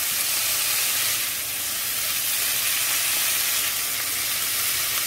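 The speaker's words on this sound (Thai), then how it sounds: "ผัดไปก่อนยังไม่หยอดน้ำนะคะ" Loud, steady sizzling from broccoli stir-frying in a hot wok, a continuous hiss with faint stirring movement and no talking.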